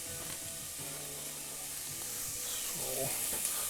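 Onion caramelizes in a pot for butternut squash soup, giving a steady hissing sizzle close up, with faint voice-like tones mixed in underneath.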